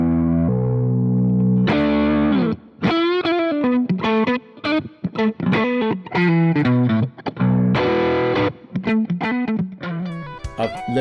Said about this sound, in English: I've got this one set as a baritone guitar, so let me just do a little riff here in standard tuning